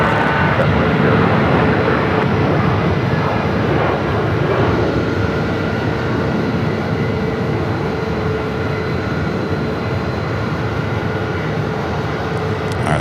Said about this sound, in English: We got planes everywhere.